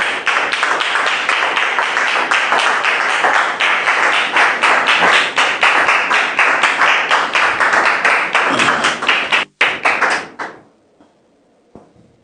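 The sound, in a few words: studio audience applauding guests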